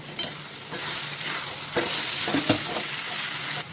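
Capsicum and potato curry with ginger and green chilli is stirred in a hot pan, a continuous loud sizzle with scraping spoon strokes and occasional clinks.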